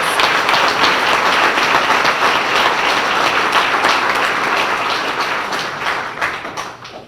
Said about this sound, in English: Could you give those three a nice round of applause?